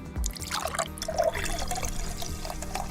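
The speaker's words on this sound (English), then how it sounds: "You top it off with Prosecco." Prosecco poured into a cocktail glass topped with a cinnamon stick, a steady close liquid trickle with small bubbly splashes, alone for a few seconds.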